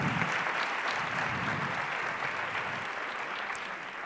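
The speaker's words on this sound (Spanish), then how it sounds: "sí, aplaudir" An audience at a talk on children's emotional management breaks into steady, dense applause that holds at an even level before easing slightly toward the end.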